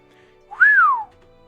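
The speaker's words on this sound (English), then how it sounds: "suddenly lets out an impressed whistle" An impressed whistle sound effect from a visual novel game, a single clear rising-then-falling whistle lasting about half a second, loud and isolated against near silence.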